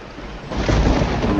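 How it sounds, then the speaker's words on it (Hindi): Heavy rain pours steadily while a low rumble of thunder swells partway through, growing louder and holding to the end; no voices. "बाहर घनघोर बारिश हो रही थी और बिजली कभी कभी कड़क कर माहौल को और भी डरावना बना रही थी।"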